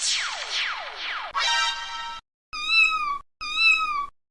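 A cartoon kitten meows in a string of bright, high calls: three quick falling mews, a longer wavering cry, then two sustained clear meows after a short pause, all alone with no talking.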